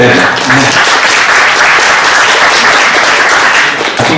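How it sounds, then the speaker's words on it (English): A conference audience applauds after a closing speech, sustained loud clapping filling the whole stretch, dense and continuous, with a voice faintly audible underneath. "I think that this applause should be done for both"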